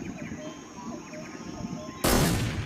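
A gunshot in the stealth video game Metal Gear Solid 3: Snake Eater, from a pistol whose silencer has broken, so it rings out as a single loud, sharp blast that decays over quiet in-game ambience.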